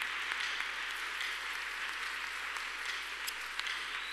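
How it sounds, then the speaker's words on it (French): Church congregation applauding and cheering at an evening prayer session, a steady, dense wash of clapping that holds at an even level throughout, with no voices rising above it. "Est-ce qu'on peut l'acclamer très fort?"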